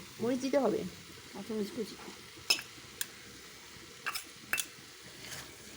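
Chicken livers frying with chilies in a pan for a singara filling, giving soft sizzling with a few sharp clinks of a utensil against the pan, while a voice talks over the start.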